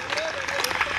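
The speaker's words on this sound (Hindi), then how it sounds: "एक बार सबकी तालियां हो जाए।" Audience clapping at a Hindi poetry recital marking Hindi Day, a brief burst of applause mixed with voices and a short cheer, fairly close and lively.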